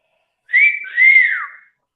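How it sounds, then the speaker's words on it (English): One person whistles two short clear notes, the second gliding up and then down, close and loud against silence. "Oh, I can whistle quite well."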